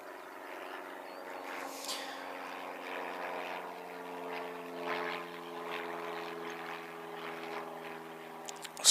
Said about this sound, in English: Simple, slow aircraft